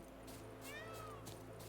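A cat in the video game The Witcher 3: Blood and Wine gives one drawn-out meow over a steady electronic background hum.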